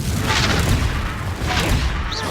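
A Confringo spell explosion in the video game Hogwarts Legacy bursts loud and close, a dense roaring blast that rumbles on without a break for the whole moment.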